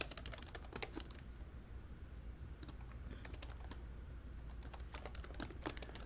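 Steady typing on a computer keyboard while coding, with brisk irregular key clicks in clusters and short pauses, close and clear with no talk.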